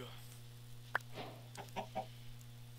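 Chickens in a Minecraft-style game cluck in several short, quiet bursts over a steady electrical hum, with a sharp click near the start.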